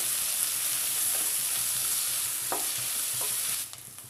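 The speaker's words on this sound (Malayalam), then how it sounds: "3/4 ടേബിൾ സ്പൂൺ ഇഞ്ചി ചതച്ചത്. ഇത് കുറച്ചൊന്ന് വഴലണം." Crushed ginger sizzles in hot oil in a pan while cooking chana masala, a steady bright frying hiss with a couple of soft stirring scrapes, then the sizzle drops away abruptly near the end.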